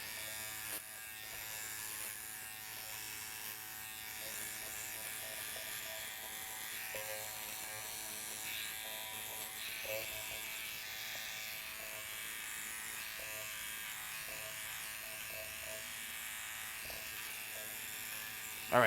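Electric hair clippers fitted with a number 4 guard buzz steadily and close up throughout a haircut on straight hair, a continuous motor whine with no talking over it.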